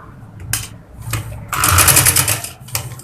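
A sewing machine stitches the lining corner of a baby girl's kurti in short bursts of rapid, close needle clatter, the longest in the middle, with brief pauses for fabric handling between.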